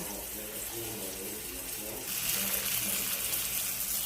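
Tap water runs steadily into a sink while vegetables are washed in a home kitchen, a continuous hiss that swells louder halfway through, with faint kitchen clatter underneath.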